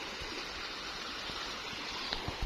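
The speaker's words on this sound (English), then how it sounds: "This river, this is another river," River water flowing on farmland near Nairobi, Kenya, a steady close rushing wash with a few soft knocks and a louder thump right at the end.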